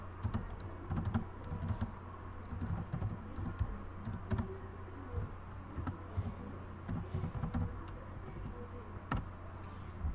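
Python code being typed on a computer keyboard produces steady, close key clicks in an uneven rhythm over a faint low hum, with no talking.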